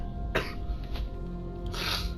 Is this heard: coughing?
yes